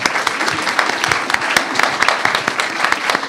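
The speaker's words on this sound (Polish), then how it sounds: "Wielkie brawa proszę dla naszego dziennika." An audience at a Polish daily newspaper's 20th anniversary gathering breaks into lively applause, individual claps sharp and close in a brisk, uneven rhythm throughout.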